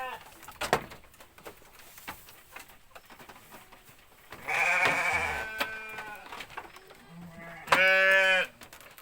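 Sheep bleating at a village sheep farm, with several loud, close bleats and a couple of shorter calls between quieter farmyard noises.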